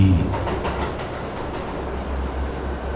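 Low rumbling of a train carriage in motion at night, steady and enveloping, with faint rhythmic rattling over the tracks.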